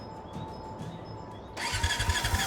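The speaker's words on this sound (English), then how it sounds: "Let's give that engine a spin." A plane engine in the video game Brassheart starts up, a steady hum giving way to a loud, rough churning rumble with rhythmic low pulses halfway through, close and alone without any voice.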